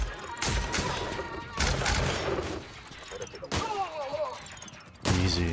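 Bursts of gunfire and impacts in The Outer Worlds video game come in several loud clusters separated by short gaps, with some mechanical clatter between them.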